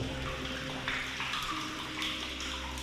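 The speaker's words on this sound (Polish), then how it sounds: "To jest potężny szyb e, do góry i tu. Jakbyście nie przyszli, tak ciągle pada woda." Water falls continually down a large shaft inside a railway tunnel, a steady, splashing rush like a running tap, with a few brighter splashes standing out.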